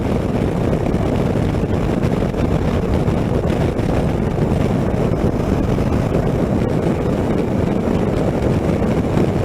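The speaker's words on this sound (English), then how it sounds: "Gosh, it's windy out here." Steady, heavy wind buffeting the microphone outdoors at a motorcycle demo ride event, a constant low rumbling roar with no pauses from start to finish.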